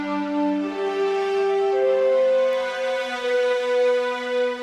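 Layered orchestral strings from the BBC Symphony Orchestra library, pizzicato and tremolo with added effects, sustain as a steady harmonic bed of held and shifting notes, moderately loud and continuous with no talking.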